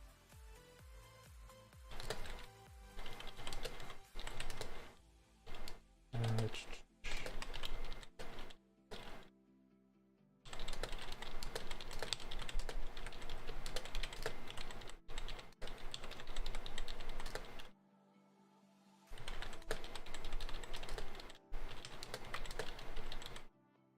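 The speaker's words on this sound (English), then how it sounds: "I guess this is where I'll have to type in chat." Computer keyboard typing for a chat message comes in bursts of rapid clattering keystrokes separated by short pauses, close and clear with no talk.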